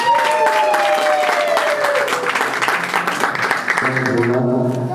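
Guests applaud at a civil wedding ceremony right after the vows, a steady wash of clapping throughout, with voices talking and calling out over it and a burst of singing or ululation near the end.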